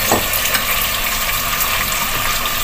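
Tomato and coarsely ground fresh masala hitting a hot pan for chicken chana dal pulao, giving a steady, close crackling sizzle with faint stirring that runs throughout without any talk.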